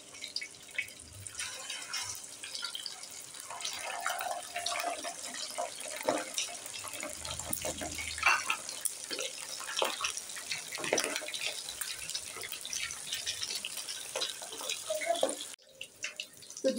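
Chicken drumsticks dropped into hot oil and frying, a busy crackling, spattering sizzle that builds and holds steady at close range, with occasional sharper pops.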